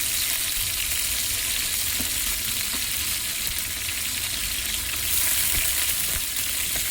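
Biryani ingredients with green peas frying in a pan, a steady, even sizzle with faint occasional stirring clicks, close and continuous with no talking.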